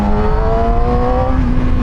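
A motorbike engine pulls under acceleration on a ride, a loud close drone whose pitch climbs steadily, with constant rumble and road noise and no voices.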